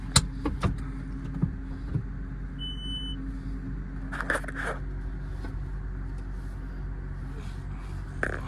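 Inside a Maruti Suzuki Fronx as it is driven slowly, a low, steady cabin rumble runs throughout, broken by a few small clicks and knocks, with occasional brief talk.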